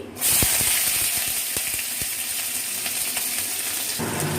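Loud, steady sizzling and hissing of chopped onion frying in hot oil close by, with a few sharp pops and no talking.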